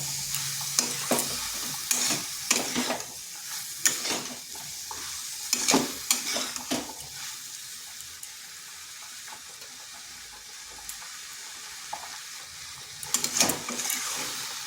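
Cabbage with spices and mustard frying in a pan as a spatula stirs it, repeated scraping strokes over a soft continuous sizzle, close and fairly quiet.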